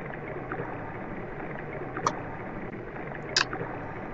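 Gentle water lapping and sloshing plays under a soft continuous ambience during a boat ride in Undertale's Waterfall area, with a couple of brief higher chirps or splashes.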